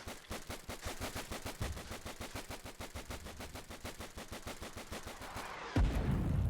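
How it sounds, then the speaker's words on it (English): A machine gun pillbox in a war video game fires a long, steady burst of rapid automatic shots at moderate distance, the rhythmic rattle continuing for several seconds before a heavier blast near the end. "I heard the machine gun pillbox that I built spring to life and defend our flank."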